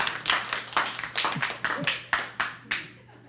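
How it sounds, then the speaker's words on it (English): Children in an audience at a family music show clap in about nine separate sharp bursts, close and fairly loud, with a brief voice between them. "there was one clap in there that was clearly an adult"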